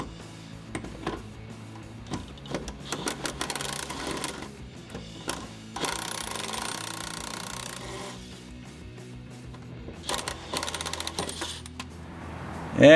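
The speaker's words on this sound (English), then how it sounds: "For the bottom part, we can just hit it with our impact." An impact wrench hammers off the bottom bolt of a suspension end link on a 1993 Nissan NX2000, giving several short rattling bursts and one longer sustained run amid clinks and handling noise in a garage.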